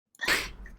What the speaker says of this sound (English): before I sneezed